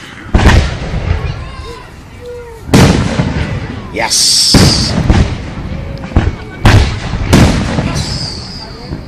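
Fireworks bursting over Runyan Lake in Fenton, Michigan, a series of loud booming explosions spaced a few seconds apart with crackling tails and a whistling rise, people talking nearby between the blasts.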